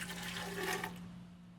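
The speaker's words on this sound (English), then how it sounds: "Then I pour that into the blender." Liquid pours into a blender while making a cacao drink, a brief splashing gush under a second long, then stopping against a faint steady hum.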